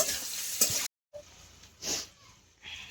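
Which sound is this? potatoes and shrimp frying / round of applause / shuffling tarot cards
potatoes and shrimp frying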